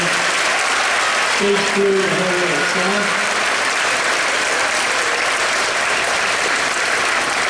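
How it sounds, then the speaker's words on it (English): Audience applause for band colleagues at an East Hartford All Town Band concert. The clapping is sustained, dense and even for the whole stretch, and someone speaks briefly over it near the start. "How about a round of applause for all my colleagues, huh?"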